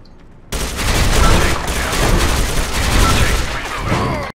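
A FAMAS rifle in Counter-Strike: Global Offensive opens up abruptly, loud close automatic bursts of tightly packed shots rattling on for several seconds with little pause.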